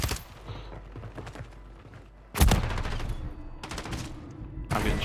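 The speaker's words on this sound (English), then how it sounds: "I'm getting shot at." Video game gunfire crackles in rapid bursts, first as scattered distant shots, then as loud sustained volleys of automatic fire with sharp cracks and low thuds close by.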